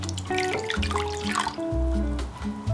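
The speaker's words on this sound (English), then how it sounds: "we're gonna add 1 cup of warm water" Water pours and splashes into a container, gurgling with shifting tones as it fills, close and fairly quiet with no talking.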